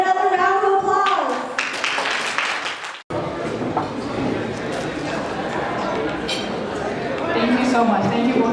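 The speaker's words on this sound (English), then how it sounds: "Can we get another round of applause?" Applause and clapping from guests at a customer appreciation party, mixed with chatter and background voices, with a brief cut partway through before the crowd noise resumes, people talking over the claps.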